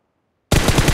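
Gunfire from the mobile game Battlegrounds Mobile India: after half a second of silence, a loud burst of rapid, evenly spaced shots fills the rest of the moment.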